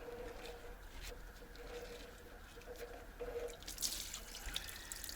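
Liquid drains and trickles from an old ZIL crane truck being revived after long disuse, a faint, steady watery patter with light drips.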